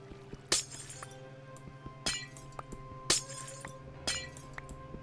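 Glass blocks breaking in the Minecraft video game, four sharp shattering clinks spaced about a second apart over a steady background music bed, loud and close.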